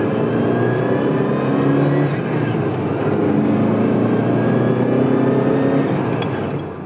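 A Ferrari 308 GTB sports engine from 1975–1985 revs loudly with a strong, steady mechanical roar and shifting pitch, close and continuous throughout with no talk over it.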